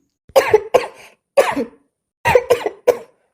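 A series of close, sharp coughs in short bursts, two pairs then a cluster of three, separated by brief silences.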